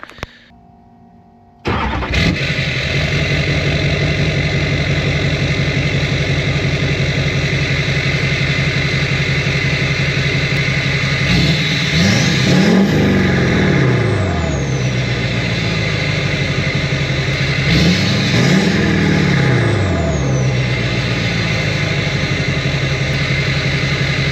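An LBZ Duramax diesel pickup with a 5-inch straight exhaust and no tip fires up after a brief click, then idles with a loud, steady rumble close by, broken by two short throttle blips.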